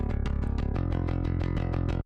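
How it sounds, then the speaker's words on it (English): Raw, programmed bass guitar DI signal playing a fast run of evenly repeated, punchy low notes, dry and loud, ending abruptly after about two seconds with no talk. "we've got our bass DI, which is raw, which sounds like this"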